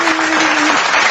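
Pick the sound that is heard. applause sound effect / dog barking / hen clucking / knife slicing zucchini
applause sound effect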